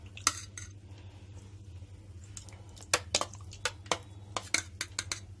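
Spoon working chicken together with yogurt, ginger-garlic paste and dry spices in a bowl, a run of sharp clinks and soft squishy scrapes against the dish, intermittent and close.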